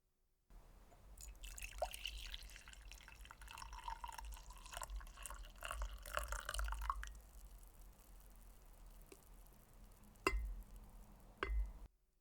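Tea brewed with a stovetop kettle in a quiet setting, a soft trickle of pouring water for several seconds followed by a few sparse drips and clinks.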